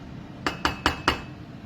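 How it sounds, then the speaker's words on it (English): A spoon clinks four times in quick succession against a pot as sugar is stirred into boiling cabbage for Norwegian sweet and sour cabbage. "I'm stirring that so the sugar will melt."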